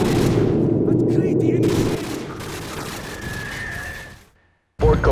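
Gunfire in the video game Call of Duty 4: Modern Warfare, heavy bursts of shooting and rumbling blasts that fade into a thin whine, then a short silence before a sudden loud hit at the end.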